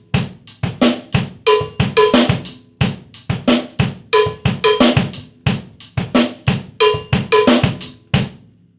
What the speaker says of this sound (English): let's take this new linear right hand pattern and move it to the cowbell